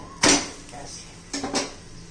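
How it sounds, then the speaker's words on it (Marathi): A spiced bajra bhakri is flipped on a hot pan with a sharp clatter, followed by a quieter scrape and two more brief knocks of utensil against metal. "हे आता भाकरी उलटून घेऊया"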